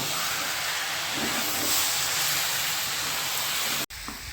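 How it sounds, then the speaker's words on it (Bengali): Cabbage curry (badhakopir ghonto) is sautéed in a pan while its water cooks off, giving a steady, even sizzling hiss that ends with a sudden sharp click. "আরও দশ মিনিট ভালো করে কষিয়ে আরও জলটাকে একেবারে শুকিয়ে নেব"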